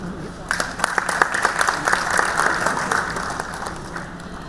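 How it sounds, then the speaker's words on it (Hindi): Audience applause after a speech at a public event, a dense crowd clapping steadily with a wash of many hands, moderately close, while someone speaks over it at the start. "बहुत बहुत धन्यवाद सर, आपका जोरदार तालियां।"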